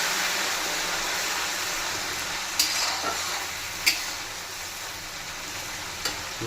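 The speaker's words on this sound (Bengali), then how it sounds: "রসুন বাটাটা ভেজে নেবো ভালো করে।" Garlic paste frying in hot oil for a chicken curry gives a steady, close sizzling hiss that holds evenly throughout, with a few small sharp crackles and pops on top.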